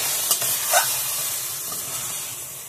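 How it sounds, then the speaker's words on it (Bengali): Chicken curry with vegetables sizzles loudly in a pan, a dense hiss from close by, with two brief scraping stir strokes near the start before it settles into a constant fry. No talking. "মাঝে মাঝে একটু নেড়ে দেব, তা নাহলে তলা থেকে লেগে যাবে"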